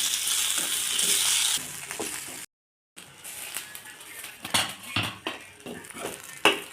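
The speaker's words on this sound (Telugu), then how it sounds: "మిరపకాయలు ఇలా వేసుకోవాలి మీడియం ఫ్లేమ్లో పెట్టి కలుపుకోవాలండి మంచిగా వేగాలి" Red chillies fry in oil over a medium flame while a spoon stirs them, a bright sizzle up front, a short silent gap, then repeated scraping and clinking strokes against the pan over a continuing hiss.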